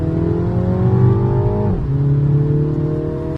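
Front-wheel-drive Mini with 231 hp accelerating hard in Sport mode, its engine note climbing steadily before a brief dip at the gear change, then pulling again, loud and close from inside the cabin.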